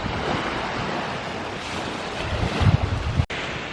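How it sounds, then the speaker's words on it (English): Ocean surf at a beach washes in as a continuous broad roar, with wind buffeting the microphone and a louder low gust near the end before a brief cut. "We made it to the beach."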